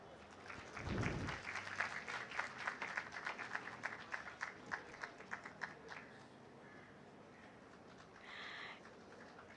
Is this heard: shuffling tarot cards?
no